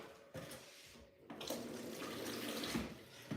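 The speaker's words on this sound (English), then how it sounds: "So we still have to add some water again." Water runs and pours steadily into a pot or bowl while okpa is being cooked, a close, continuous splashing stream that swells partway through.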